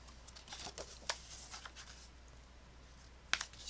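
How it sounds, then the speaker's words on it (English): Paper card bases cut from letter-size sheets being creased and folded, giving soft scattered rustles and a couple of sharp crisp swipes, close by and quiet, with no talk. "Now you're just going to take your card bases, fold them."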